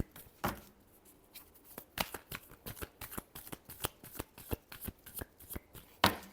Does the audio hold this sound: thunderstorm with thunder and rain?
no